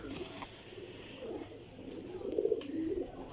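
Colourful pigeons in a loft coo softly and continuously nearby, their low rolling calls swelling slightly toward the end over a faint background.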